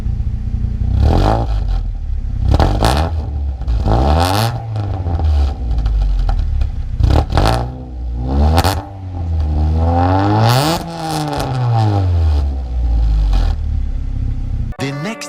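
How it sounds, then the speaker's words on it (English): A 1999 Hyundai Tiburon FX fitted with an OBX catback exhaust revs repeatedly up close, loud engine pitch climbing and dropping in a series of blips, with mechanical clatter underneath. "let me do an exhaust clip real quick."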